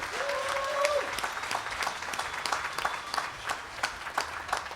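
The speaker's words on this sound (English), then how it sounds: "How about another round of applause?" Audience at an outdoor folk festival showcase applauding, a steady sustained patter of many hands throughout, with a brief tonal whistle or feedback near the start.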